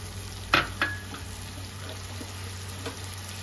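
Spice paste with a splash of water fries in a pan, a steady soft sizzle broken early by two sharp utensil clinks as it is stirred, then a quieter clink near the end.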